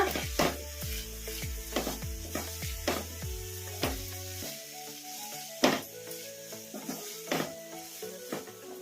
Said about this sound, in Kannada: ಈಗ ಇದಕ್ಕೆ ಲಾಸ್ಟಿಗೆ ಒಂದು ಸ್ವಲ್ಪ 1-2 ಸ್ಪೂನ್ ಅಷ್ಟು ಟೊಮೊಟೊ ಕೆಚಪ್ ಹಾಕೋಣ. ಈಗ ಕಲಸ್ಕೊಂಡ್ಬಿಡೋಣ.